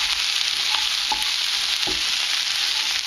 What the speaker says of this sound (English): Just keep on stirring